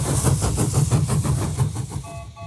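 Cartoon train slowing down, a rhythmic chugging pulse with low rumble that grows fainter and sparser toward the end, steady and fairly close, with no talk over it.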